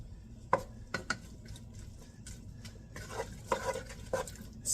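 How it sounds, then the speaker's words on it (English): Tomatoes cooking in a pan are stirred with a utensil, with scattered scraping clicks and taps against the pan at close range over a soft background of low cooking noise. "Stir it around."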